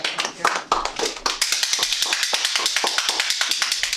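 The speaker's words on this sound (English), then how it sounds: "that's my clap" Hand claps ring out in a quick, steady run of sharp, close slaps at a Toastmasters club meeting, with people talking briefly alongside.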